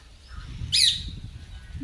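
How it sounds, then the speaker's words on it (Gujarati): A single sharp parrot call rings out briefly over quiet background rumble, short and fairly close, in a village wheat field. "જો પોપટ આવ્યા"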